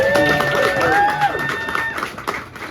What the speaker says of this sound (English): Please clap it up for my parents.